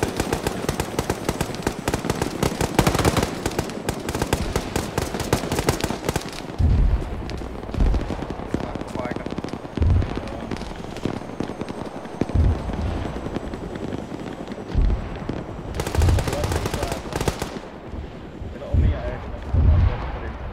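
Gunfire in the military game Arma 3, heavy bursts of shots and booming impacts among a constant rotor-like roar, with radio voices talking over parts of it.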